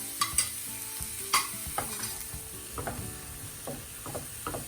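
Spiced cauliflower filling with onion and coriander stirred in a pan over the stove, a soft steady sizzle broken by close scraping and clinking spoon strokes at an irregular pace.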